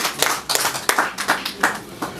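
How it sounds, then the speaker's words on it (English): A short burst of clapping from an audience at a business presentation, individual claps fairly close and distinct, uneven in rhythm, with little else heard. "a round of applause"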